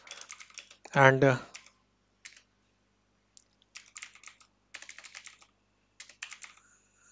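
Bursts of computer keyboard typing, clicks coming in short uneven clusters separated by pauses, close and clear, with a brief spoken word near the start.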